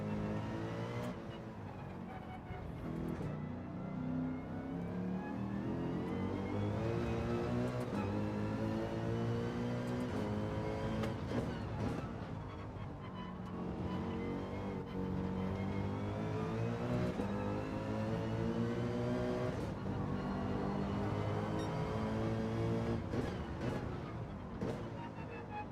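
Race car engine in Gran Turismo 7 revving hard through repeated upshifts and downshifts, its rising and falling whine continuous and loud, with accelerations building and dropping throughout.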